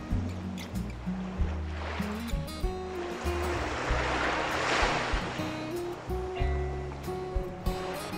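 Large ocean waves roll in at Madasari Beach, Pangandaran, West Java; a broad surf rush swells and fades midway, heard beneath steady background music.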